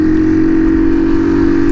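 A small moped with no gearbox rides along a tree-lined road, its engine droning steadily close by with a constant hum and no talking.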